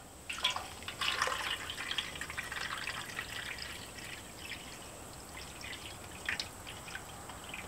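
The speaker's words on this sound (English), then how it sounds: "Go ahead, pour in your water into the trough." Water poured into the trough of a 22-inch charcoal basket barbecue setup, a faint trickling and splashing that swells near the start and then settles into a soft, steady dribble, with no talking.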